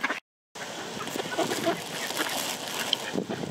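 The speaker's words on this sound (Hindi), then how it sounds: "ये बतख की वो किस्म है जो उड़ती भी है" A flock of ducks of a flying breed gives scattered clucking, quacking calls at moderate distance over a busy outdoor background, after a brief drop to silence at the start.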